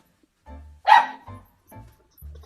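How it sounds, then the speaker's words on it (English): Dogs bark outdoors in a short burst of separate barks, one sharp loud yelp followed by several lower, softer woofs spaced apart, with no talking. "I wish I knew what they were barking at."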